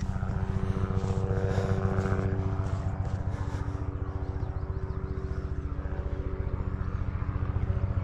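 A helicopter passes overhead outdoors in the evening, its steady, rapid rotor chop loud and continuous throughout with a strong low thump and no voices.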